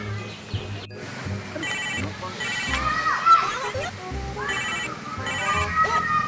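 A telephone rings in a household scene from a Sundanese film, its repeated electronic ring pulses sounding in short bursts while children and adults chatter loudly over and between them.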